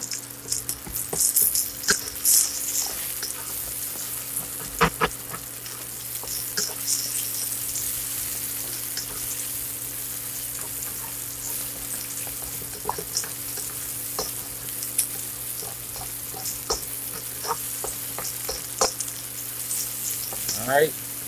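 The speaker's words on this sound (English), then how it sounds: "Go ahead and get my shallots up in there" Shallots sizzle and fry in hot oil in a pan, a continuous close crackling hiss with occasional sharper pops and stirring scrapes, no talking.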